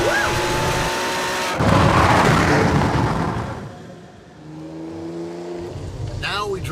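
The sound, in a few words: Ferrari 599 downshifting and accelerating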